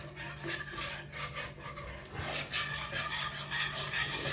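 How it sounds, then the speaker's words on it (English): A whisk rasps and scrapes steadily inside a pan as milk is worked into a cheesy bacon pasta sauce, a continuous close scratching texture with no talk. "in with some milk. Turn this up. And we'll just get a wee whisk."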